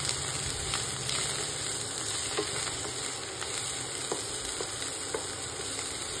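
Tomato chili thecha sizzles steadily in a pan as coriander is stirred in, with light scraping clicks of the spoon over a continuous frying hiss and no talk.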